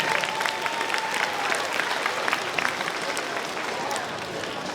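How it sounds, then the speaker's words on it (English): Elementary school children in a gym applaud at a celebration assembly, producing a full, sustained burst of clapping mixed with crowd noise and scattered voices that carries evenly for nearly five seconds. "Big round of applause."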